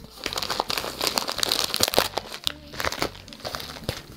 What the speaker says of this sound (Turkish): paketimi açıyorum